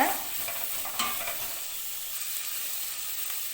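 A handful of cashews sautéed in a pan as the base for a sweet corn gravy, giving a continuous close sizzle with a couple of stirring scrapes near the start.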